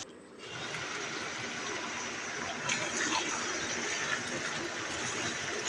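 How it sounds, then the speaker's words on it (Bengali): Beef tripe fries in oil with onion in a pan, a steady wet sizzle and hiss that swells slightly after a quiet start and holds evenly throughout with no talking. "এখন একদম লাল লাল করে ভাজা না হওয়া পর্যন্ত রান্না করে নেব।"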